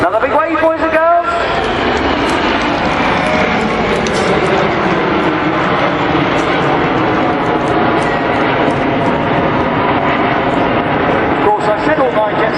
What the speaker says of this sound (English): all 9 jets are going to smoke the Diamond Roll